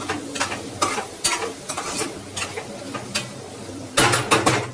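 Spiced Indian aloo fry potatoes sizzle in a pan while a spoon stirs and scrapes them in uneven strokes, close and steady, with a louder burst of scraping near the end.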